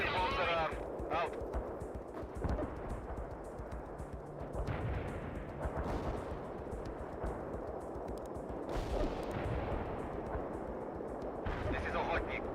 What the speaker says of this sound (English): Strike mission received. Cluster bombs are armed.